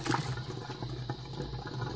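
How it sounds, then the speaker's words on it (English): Curdled milk for Bangladeshi roshogulla is poured into a strainer, giving a steady, splashy stream of liquid for a couple of seconds, near and moderately loud, with no voices. "And then I'm going to bring my curdled milk and just pour it in."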